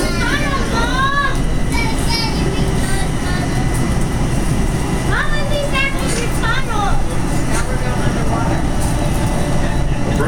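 A Pittsburgh Blue Line light rail train rolls along with a constant rumbling ride noise and rising-falling motor whines, while people talk over it.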